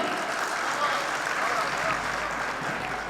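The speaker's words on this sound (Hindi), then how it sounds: "बजाओ ताली" An audience at a Jain community gathering in Mumbai claps in a brief, steady round of applause, fairly soft and diffuse, with a faint murmur of voices underneath.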